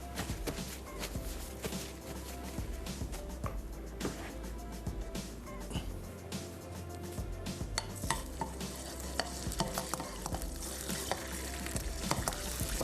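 Garlic paste fries in oil with crushed red chilli in a kitchen, giving a steady close sizzle broken by occasional clinks of utensils against the pan and light shuffling movement nearby.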